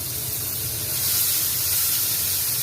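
Eggplant slices frying in a pan give a steady, close hiss and sizzle that holds at an even level throughout, with no talk.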